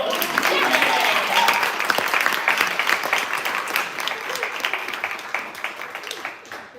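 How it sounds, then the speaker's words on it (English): Audience applause at a university thesis festival session follows a presentation, steady clapping from a modest crowd that gradually thins and fades, with some voices mixed in. "Let's give that round of applause."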